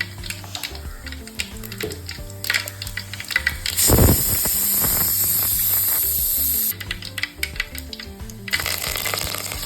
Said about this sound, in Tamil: எண்ணெய் சூடானதும் கடுகு சோம்பு போட்டு நல்லா பொரிஞ்சதும்